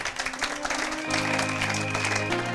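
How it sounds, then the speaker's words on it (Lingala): A church congregation applauding in praise during a French-language sermon: steady broadband clapping that continues as sustained musical tones rise underneath partway through. "Acclamons pour la gloire de notre Dieu"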